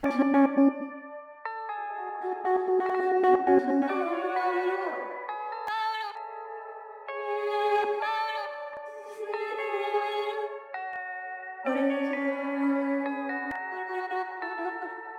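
Chopped vocal samples in FL Studio play in a looping pattern for a rap beat, sustained sung tones switching pitch every second or two, with an echoing, processed sheen.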